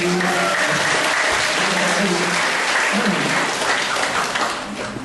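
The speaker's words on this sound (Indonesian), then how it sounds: "Tepuk tangan untuk Pak Bandi." A large audience gives dense, sustained applause at a university psychology faculty talk show and dean's opening, loud and continuous throughout, easing slightly toward the end.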